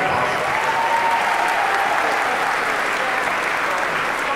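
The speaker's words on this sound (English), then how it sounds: "Another round of applause." Convention panel audience at Walker Stalker London breaks into a steady, full round of applause, dense even clapping from a large crowd with faint cheering mixed in.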